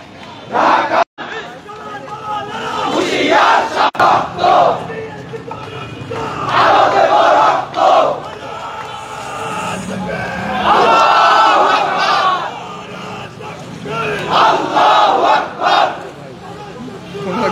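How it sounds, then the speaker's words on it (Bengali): A large crowd of university students chants protest slogans demanding a ban on ISKCON, loud rhythmic group shouting in repeated bursts with brief pauses between phrases, close and dense. "তারা কিন্তু ইসকনকে আসলে নিষিদ্ধের দাবিতে তারা কিন্তু নানা স্লোগান দিচ্ছেন"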